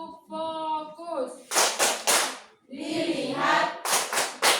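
A classroom of voices chants together, then claps a quick rhythmic pattern of three sharp hand claps, chants again and breaks into another burst of claps, the group clapping loud and close.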